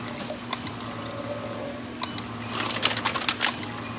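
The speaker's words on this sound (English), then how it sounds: "And we use these continuous liquid filling machines to fill up the jars." Continuous liquid filling machines filling jars with cordyceps growth medium on a mushroom farm, a steady mechanical hum with running liquid and quick rhythmic clicks that grow busier toward the end, no speech.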